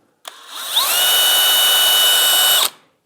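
A DeWalt DCD998 hammer driver runs at speed setting 2 with a steady, loud whine, its pitch rising briefly at spin-up and then holding smooth and even for about two seconds before cutting off.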